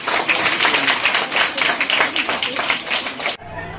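Audience applause at a felicitation ceremony held by an Arya Vysya association during a Karthika picnic gathering, loud sustained clapping from many hands for over three seconds before it cuts off sharply.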